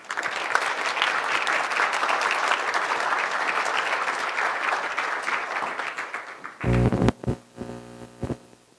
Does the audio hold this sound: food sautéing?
no